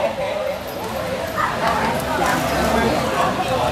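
Chihuahuas bark and yip at close range in a busy room, with people talking over the dogs throughout.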